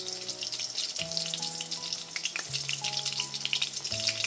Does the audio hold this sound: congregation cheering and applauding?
no